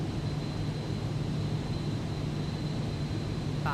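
A Vision Jet single-engine personal jet in Microsoft Flight Simulator 2024, on approach to Queenstown, New Zealand, gives off a steady, close engine drone with a thin high whine that holds constant throughout, with no talk over it.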